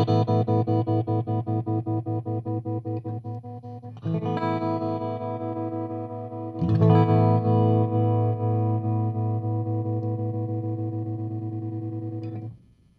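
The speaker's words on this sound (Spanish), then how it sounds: "Ahora vamos a activar el lado izquierdo, que es la parte del trémolo." Electric guitar chords ring through a Strymon Flint tremolo pedal, the sustained tones pulsing in a fast, even volume throb as three chords are struck in turn, alone with no talk.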